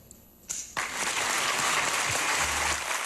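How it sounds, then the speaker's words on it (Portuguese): Employees applaud their boss at SBT's 30th anniversary celebration: a dense, sustained burst of clapping from a large group, starting abruptly after a brief quiet lead-in and holding steady at full volume. "eu vi não um grupo de funcionários aplaudirem o patrão, um empresário"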